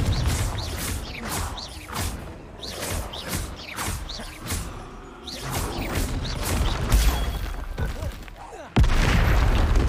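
A Confringo fire spell in a video game lands as a run of booming, crashing blasts with whooshes and mechanical clatter. The impacts repeat throughout, and character voices speak between them.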